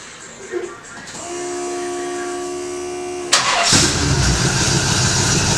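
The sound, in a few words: car engine starting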